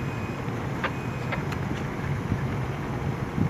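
Low steady engine rumble of the ship MV Divine Success as it berths, continuous and fairly faint with wind noise and a few faint high whistles or tones over it.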